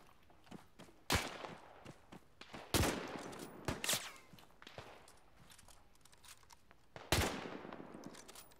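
Sharp, separated bursts and single cracks of machine-gun fire in the WW2 combat game ArmA 3, loud against a quiet background with irregular gaps between shots.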